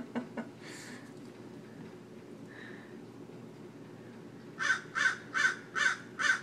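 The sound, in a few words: bird calling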